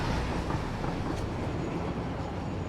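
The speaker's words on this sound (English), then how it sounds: "Just ejected from a moving train." A moving train in the game Satisfactory gives off a steady, dense rumble and clatter of rolling wheels on rails, loud and continuous throughout.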